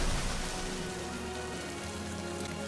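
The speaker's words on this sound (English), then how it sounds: "Red rain falls from the sky, enveloping her." Steady red rain pours down in Limbus Company, a dense even hiss of drops on surfaces that holds at a constant level for a few seconds with no voices.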